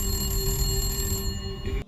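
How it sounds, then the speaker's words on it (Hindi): A telephone bell rings continuously and steadily for about two seconds with a bright, buzzing tone, then cuts off abruptly. "अचानक से फोन की घंटी बजती है"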